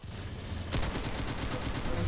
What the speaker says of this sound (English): I got the nail gun as a weapon.